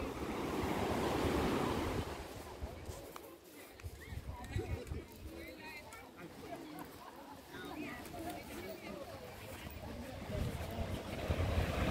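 Sea waves at Bhavani Beach in Mahuva, Bhavnagar, wash and rumble steadily in a broad noisy roar with wind buffeting the microphone, while someone talks over the surf.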